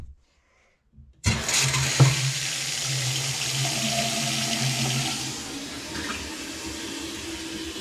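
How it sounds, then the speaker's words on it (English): A newly installed bathroom faucet is switched on after about a second of near silence, and water gushes steadily into the sink, loud and close, then eases slightly toward the end. "turn on the faucets"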